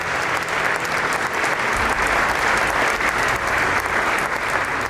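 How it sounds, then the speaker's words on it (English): Dense, steady audience applause filling the room as a company CEO is welcomed on stage at a factory event, loud and continuous throughout. "So please welcome on stage with a very, very warm applause, Mr. Tavi Mariberg"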